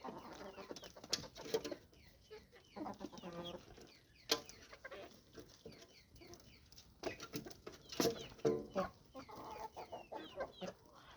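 Laying hens cluck and murmur steadily at moderate distance, with a few louder squawks standing out from the flock's chatter.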